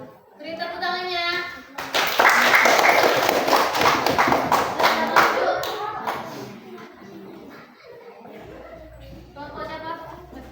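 Classroom group clapping hands at a school lesson, a few seconds of lively claps between stretches of talking voices, with some thumps and chatter mixed in.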